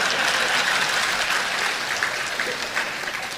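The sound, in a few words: audience applauding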